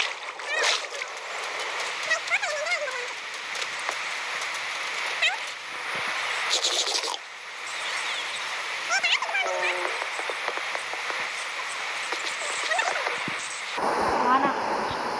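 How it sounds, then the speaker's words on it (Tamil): Rain falls steadily in the video game Minecraft, a constant hissing wash with splashy patter and several brief sharp sounds through it, and a voice heard only faintly in the background. "வெளியில் மழை பெஞ்சிட்டு இருக்குடா."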